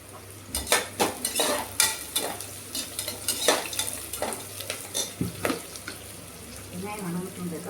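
Onions fry and sizzle in a pan while a spoon stirs them, a continuous hiss broken by repeated scraping and clinking strokes of metal against the pan.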